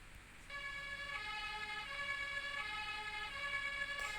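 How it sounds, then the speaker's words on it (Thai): Lego fire truck siren in the Roblox Brookhaven game, an electronic wailing tone with stacked harmonics that starts abruptly and holds steady, alternating between two pitches, clear and alone with no talk. "รถดับเพลิงก็มีเสียงใหม่นะ"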